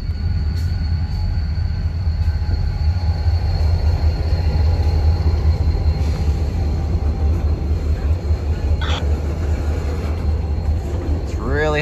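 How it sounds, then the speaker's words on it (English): Continuous low rumble of a passing train on the Maine Central line in Waterville, Maine, with rolling wheel noise, steady and fairly loud, a faint squeal rising near the end. "Really hard to see, but there's a train right there."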